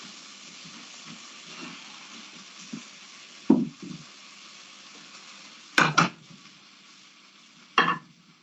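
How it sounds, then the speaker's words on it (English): Salmon pan-frying in a hot pan gives a steady close sizzle, broken by a few sharp knocks and clatters of a utensil against the pan; no one speaks. "it looks like you're going to do pan-fried for this recipe"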